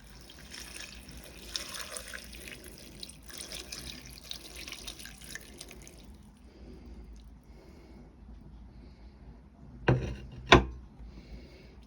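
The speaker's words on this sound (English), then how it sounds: "I'm just going to fill it with about 1 litre of water." Water runs steadily from a tap into a pot, about a litre, for several seconds, then stops, followed by a couple of sharp clunks.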